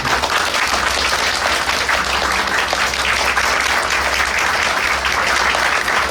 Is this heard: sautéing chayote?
no